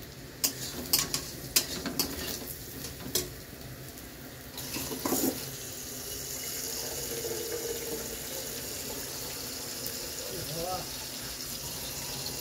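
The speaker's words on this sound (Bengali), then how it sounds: "পরিমাণ মতো জল দিয়ে দিলাম।" Water is poured into a pan of Bengali potato curry made with fried potatoes, turmeric and salt; a few clinks of the utensil come first, then a steady, close splashing gush runs for several seconds and settles into a continuous wash.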